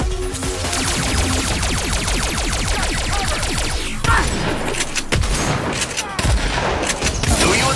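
Rapid sustained gunfire in the video game Agents of Mayhem as the core is shot, a fast rattling automatic stream followed by heavier booming impacts and thuds, loud and continuous.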